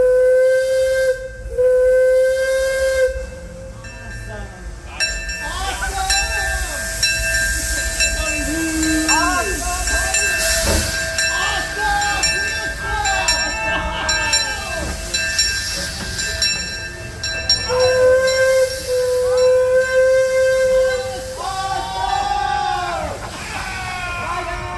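Disneyland Railroad steam train pulling away, with loud drawn-out steam whistle blasts, hissing steam and rolling wheel clatter up close. Passengers chatter and call out throughout.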